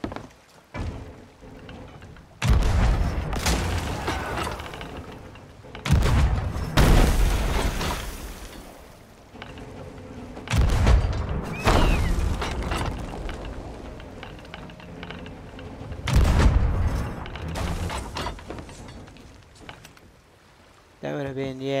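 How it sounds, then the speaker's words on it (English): Grog bomb blasts in the pirate video game Sea of Thieves, four heavy booming bursts spaced several seconds apart, each with a lingering rumble, mixed with game sounds and a player talking. "I try to grog bomb him again."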